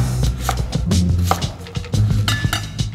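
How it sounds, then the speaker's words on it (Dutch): A knife cuts through an apple on a board in a kitchen, with a few sharp, close cutting knocks and scrapes spaced irregularly over a few seconds. "Een appel, we snijden die gewoon in tweeën."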